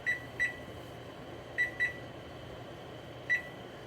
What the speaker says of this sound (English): I'm going to turn my timer on